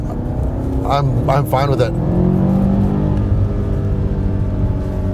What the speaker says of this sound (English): Really, really nice throaty exhaust.